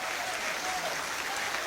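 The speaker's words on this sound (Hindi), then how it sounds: "एक बार तालियां अच्छी उठा दें।" Brief burst of steady clapping from the crowd at a devotional gathering, a continuous wash of applause with no pauses.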